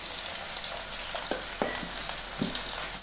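Tomato, ginger and Kashmiri chilli powder fry in hot oil for a dried fish curry, giving a steady close sizzle broken by a few soft stirring scrapes.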